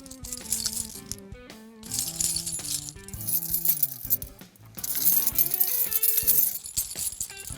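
Car keys are shaken close to a recorder, a dense metallic jingling and clinking that comes in bursts with a brief pause partway through, loud and bright with no speech.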